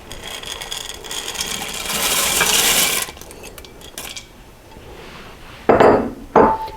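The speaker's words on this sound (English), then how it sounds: "I'm going to add the red beans to the pot" Dry red beans poured into an Instant Pot, a rushing rattle of many small beans striking metal for about three seconds, then a quieter scattered clatter and two sharp final clinks.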